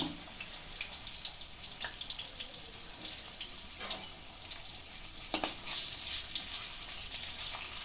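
Pieces of pointed gourd fry in mustard oil in a wok, making a soft, continuous sizzle with scattered small pops and crackles, faint and fairly close.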